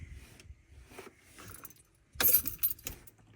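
Car keys jangle and turn in the ignition of a late-model Mercedes W211, with a soft metallic rattle, a brief quiet pause, then a louder, denser burst of clinking near the end.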